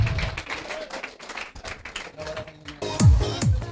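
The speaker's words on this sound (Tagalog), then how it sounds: "Bigyan natin ng bilyong-bilyong palakpak para kay Master James Quinte." An audience at a leaders' orientation session applauds. The dense clapping runs throughout and is mixed with faint voices and a few tonal sounds near the end.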